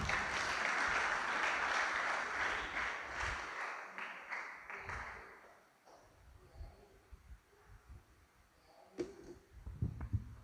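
An audience at a youth fellowship prayer meeting claps for several seconds, loud at first and then thinning into scattered claps and quieter background sounds.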